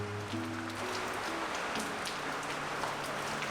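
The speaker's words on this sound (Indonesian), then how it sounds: "Kondisi cuaca saat itu sangat hujan deras" Heavy rain pours down steadily in the village of Malaumkarta, a dense close hiss of falling water with faint low tones underneath.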